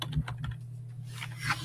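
A short run of key taps on a computer keyboard while entering a name, with a few distinct, close clicks over a low steady hum.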